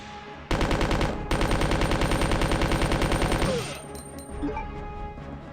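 A video game machine gun fires a rapid, steady stream of loud shots, pausing briefly once before resuming for a few seconds and then cutting off into quieter background sounds.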